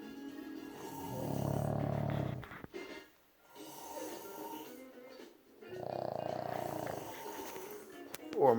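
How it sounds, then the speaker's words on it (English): Dog snoring late at night, with slow, rhythmic, rasping breaths up close, about three loud drawn-out snores with quiet pauses between them. "So it's who snores louder? My dog?"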